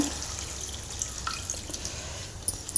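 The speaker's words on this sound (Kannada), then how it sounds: "ತಿರ್ಗಾ ಇನ್ನೊಂದು ಸ್ವಲ್ಪ ನೀರು" More water added to a pan of bitter gourd and tamarind gojju: a soft, close trickle and splash with a few scattered drips, quiet and unaccompanied by talk.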